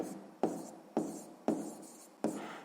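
A pen or pencil writes a maths answer on paper in four short, crisp scratching strokes, close and quiet, with pauses between them.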